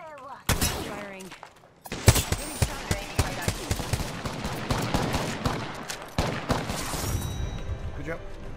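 Rapid gunfire in the Apex Legends battle royale game, with bursts of automatic fire and sharp repeated shots from about two seconds on, loud and close, while players talk over the fighting.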